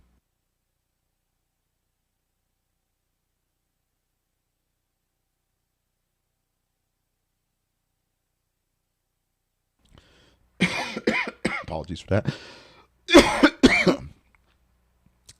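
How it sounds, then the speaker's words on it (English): A burst of harsh, close coughing after a long silence, several rough hacks in two clusters, followed by a brief spoken apology. "Try to get that cough out"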